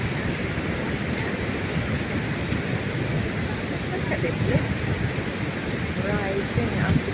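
Kaieteur Falls in Guyana, a single-drop waterfall throwing mist up its cliffs, gives a broad, steady roar of falling water heard from a distance, with faint talk in the background.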